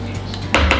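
Dry banana oatmeal muffin ingredients tipped from one bowl into a bowl of wet ingredients, a soft rustle followed by two brief clinks and thuds against the bowl, close and alone.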